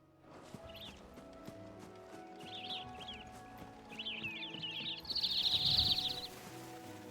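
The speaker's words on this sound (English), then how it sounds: "Loud birds." Birds chirp in Final Fantasy XVI, bright trilling calls repeating in short clusters that grow louder and denser toward the end, over soft hoof-like clopping and a low ambient hum.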